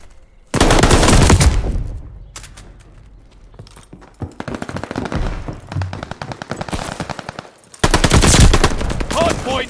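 Rapid automatic gunfire from a Call of Duty Vanguard hardpoint match, loud bursts of sustained shooting broken by short pauses, with scattered single shots and sporadic game voice callouts.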